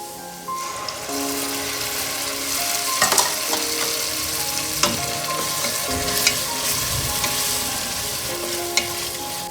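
Pureed tomato frying with capsicum in a hot pan, a loud, steady sizzle with occasional stirring knocks and spatters, close up and with no speech.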